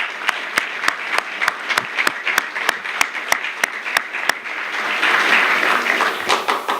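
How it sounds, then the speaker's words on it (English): Audience applause at a student banquet: evenly spaced single claps ring out sharply at first, then swell into fuller, denser crowd clapping toward the end. "So just another round of applause, please."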